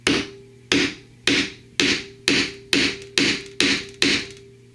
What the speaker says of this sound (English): pound on it with a hammer